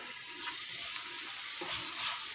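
Chopped carrot and capsicum fry in a pan, a steady, bright sizzle that holds loud and even from start to finish with no talking.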